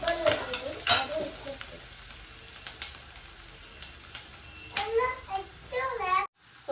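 Food sizzling and frying in a pan at a home stove with intermittent stirring clatter, steady hiss throughout with brief louder bursts near the end.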